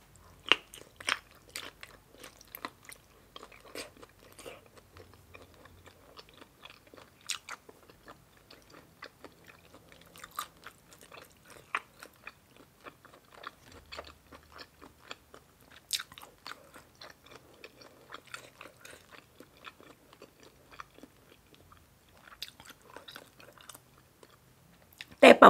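Crispy squid is bitten and chewed close up, giving a long run of sharp, irregular crunches and wet chewing clicks, fairly quiet overall with a few louder bites.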